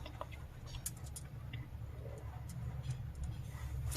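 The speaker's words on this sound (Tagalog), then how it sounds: "sa ngayon umuulan" Rain falls steadily with a dense, even patter and scattered sharper drip ticks, holding at a constant moderate level with no one talking.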